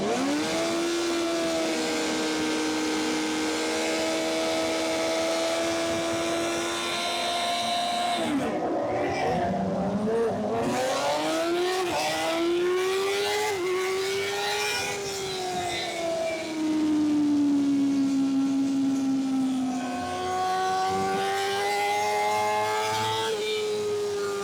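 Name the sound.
racing motorcycles at a CVMA race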